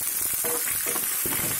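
Onion and curry leaves sizzle loudly in hot tempering oil for a roasted brinjal curd pachadi, a steady close crackle and hiss throughout with no talking.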